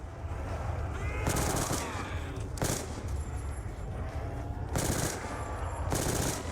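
Bursts of automatic weapon fire in the zombie video game Nuketown Zombies, loud rapid volleys repeating in several rounds with brief pauses between them over a steady background din.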